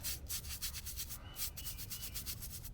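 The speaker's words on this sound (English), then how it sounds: "just so that we can make sure to get just a good scrub in those details" Brush scrubbing the carved lettering and decorative details of a headstone during cleaning, quick rhythmic back-and-forth bristle strokes, close and steady with no talking.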